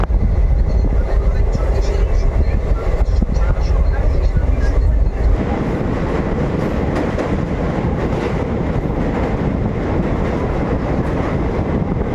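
The 13175 Kanchanjunga Express, running from Sealdah towards Guwahati, rumbles loudly and continuously from on board, with a heavy low roar that shifts partway through to a steadier rattling clatter of the carriages.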